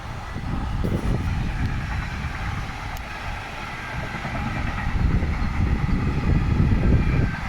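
A train rumbles past nearby, its steady roar swelling toward the end with faint rhythmic clacking of wheels on rails.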